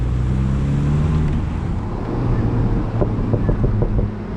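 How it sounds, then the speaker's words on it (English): Engine rumble of a Mini Cooper JCW Convertible under acceleration with a short burst of sharp, rapid exhaust pops near the end, heard from close by. "you can always hear that it will consistently make crackles as I go up"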